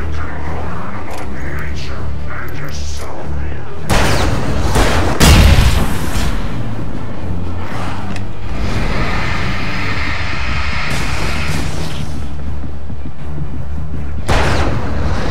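Gunfire in the horror action game Alan Wake, a loud boom standing out around the fifth second amid dense rumbling combat noise, with further impacts and a final burst near the end.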